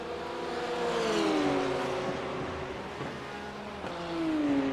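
BMW and Porsche GT3 race cars accelerating up the hill at Rudskogen, engines droning and climbing steadily in pitch as they pull through the gears, loud and continuous without talk.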